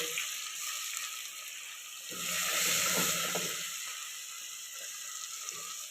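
Garlic, onion and bay leaf fry in oil for a koi fish curry, a steady soft sizzle that swells briefly as the onion and bay leaf hit the pan, then settles back to a gentle hiss.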